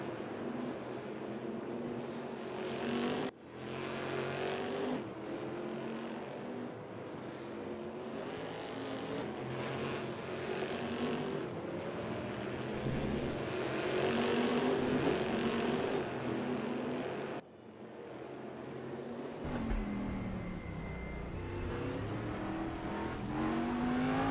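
Daytona Prototype race car engines roar and rev continuously at Daytona in the RaceRoom racing game, with gear shifts and shifting pitch as cars accelerate and brake, loud and close throughout.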